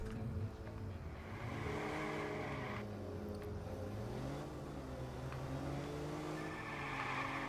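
A car driving in the Watch Dogs game, a steady engine hum with pitch that swells and falls as it accelerates and eases off, moderately loud and continuous, no talking.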